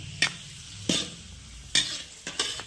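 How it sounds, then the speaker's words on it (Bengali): Beans and carrots frying in a pan for fried rice are stirred with a utensil, four or five sharp scraping strokes over a soft continuous sizzle, close and without talk. "এবার ভালো করে একটু নাড়াচাড়া করে নেবো"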